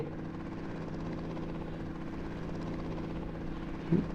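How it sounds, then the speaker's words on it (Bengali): A helicopter in the Indian Bike 3D video game powers up and lifts off, giving a steady, fairly quiet rotor drone that holds evenly throughout, with a brief small bump near the end. "হেলিকপ্টার অন করে দিলাম সো ওপরে উঠতে লাগলাম"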